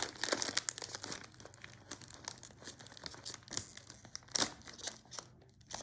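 Thin plastic bag crinkling and tearing as a Kiwi KS 6905 bag sealer's built-in cutter slices through it, a run of close, busy rustles with sharper crackling bursts, no talk.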